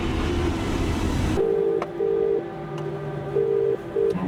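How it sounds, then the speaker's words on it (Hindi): A telephone being dialed indoors, heard as a series of short, loud steady tones of varying length following a burst of broadband noise, with brief clicks between the tones and no talking. "अरे भाई फोन तुमने मिलाया"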